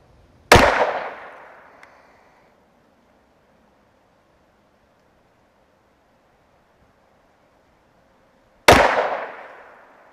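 A Smith & Wesson M&P 2.0 10mm pistol firing 180 grain round nose flat point poly coated rounds at 15 yards on a range: two loud, sharp shots about eight seconds apart, each with a ringing tail, and quiet between them.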